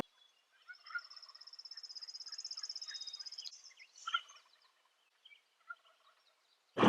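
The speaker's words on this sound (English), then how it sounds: "They were gobbling like crazy around us, but it was like they were gobbling at each other and not to us." Wild turkeys gobble in the open during an Idaho hunt, one long rattling gobble running for several seconds, then a shorter call and a few scattered calls from birds nearby and farther off.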